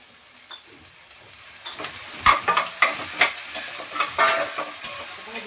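Chopped spring onion greens stirred into sautéing onion in a pan, giving a steady sizzle broken by repeated scraping, clattering stirs that come in a loose rhythm, close up, with no talking.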